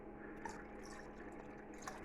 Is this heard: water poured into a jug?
yes